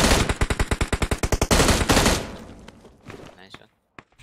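Rapid automatic gunfire in the PUBG Mobile shooter game, a loud burst of about fifteen evenly spaced shots followed by a few scattered distant pops, with players talking faintly over it.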